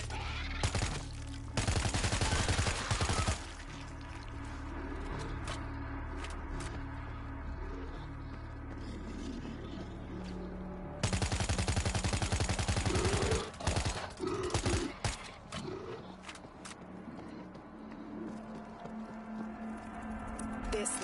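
Video game gunfire from the direction of a highway, with dense bursts of shots in two loud stretches separated by a quieter gap of ambient game sound, ending in scattered distant noises and occasional in-game voices.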